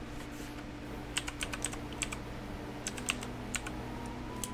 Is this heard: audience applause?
no